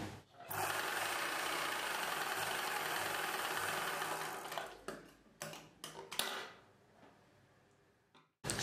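Sewing machine stitching tucks on a blouse lining, a continuous fast whirring run that stops, then several short stitching bursts and pauses.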